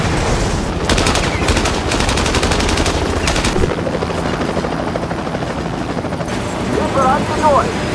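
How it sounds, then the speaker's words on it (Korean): In a film action scene, a helicopter attacks a train: rapid machine-gun bursts rattle over a loud, constant rotor thrum, then the firing stops while the helicopter keeps roaring. "하지만 적들은 헬기까지 동원하며 그들을 잡기 위해 총공세를 펼치기 시작합니다."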